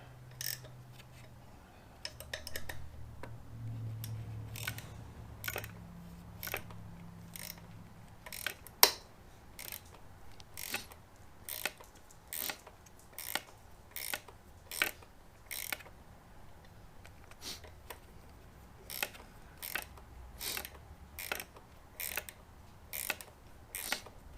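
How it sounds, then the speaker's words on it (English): An 8mm wrench works bolts on a Yamaha Raider motorcycle, giving a long run of sharp, evenly spaced ratchet clicks close by, with a few louder clanks and quiet handling noise between them. "I got my 8mm wrench."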